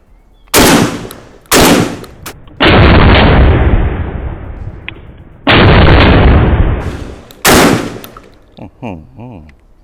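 A short-barrel Predator shotgun fires several loud, booming shots, each a sharp blast with a long rumbling decay, spaced a second or more apart, followed by faint handling noise.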